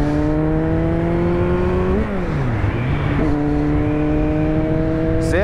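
A Kawasaki Z900 restricted to 48 PS for the A2 licence class, ridden on the road and accelerating steadily. Its engine drone drops in pitch at two manual clutch-and-shift gear changes, then climbs again, loud and close throughout.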